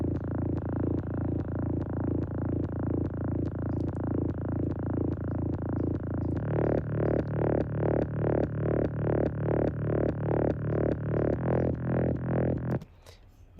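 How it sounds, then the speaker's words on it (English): A repeating bass line from an ambient house track pulses in steady, even notes for about twelve seconds, loud and up front with no voices, shifting to a lower, denser pattern midway before cutting off near the end. "And then this is what the bass sounds like."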